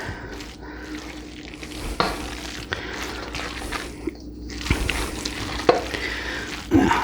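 Shredded potatoes being stirred with cream cheese and spices for a cheesy hash brown casserole, a continuous wet mixing and squishing with soft scrapes and occasional sharper knocks, close by with no talk.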